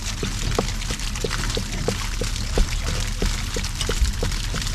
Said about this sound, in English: just leave your water running. And it'll flush all this stuff out of there.